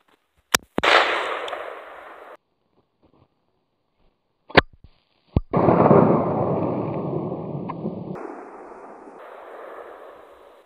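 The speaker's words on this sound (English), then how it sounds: "I'll shoot at it with the eight" A shotgun loaded with number eight shot fires at a coffee mug outdoors, giving several sharp, loud bangs spread across the clip, each followed by a long, rushing decay. No one speaks.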